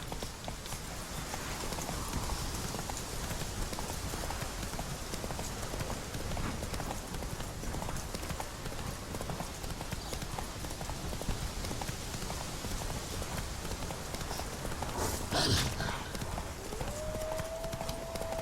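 Roach the horse gallops steadily in The Witcher 3, a dense, continuous drum of hoofbeats heard close up for the whole stretch, with a short sharp sound near the end and no voices over it.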